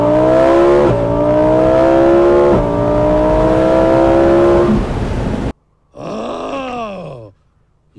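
A powerful Lamborghini Huracan Spyder engine roars steadily, then cuts off and revs sharply in a couple of rising and falling bursts, loud and close.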